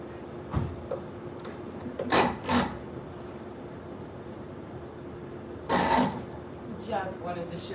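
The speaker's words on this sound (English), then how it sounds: "we'll grab our checkering file" A checkering file rasps across a clamped knife handle, cleaning out its grooves in two short bursts of strokes, with quiet gaps and a steady low hum between them.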